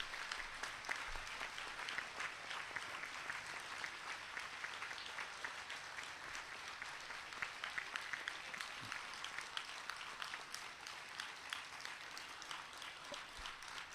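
An audience at a spiritual gathering honouring a revered guru applauds steadily, the clapping fairly distant and faint and holding evenly throughout.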